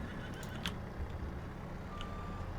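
A horse neighs in Farming Simulator 22, a clear whinny over a steady low farm machinery hum, with a second fainter call near the end.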